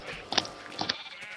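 Sheep bleat twice in the Minecraft video game, two short nasal calls close together over quiet background.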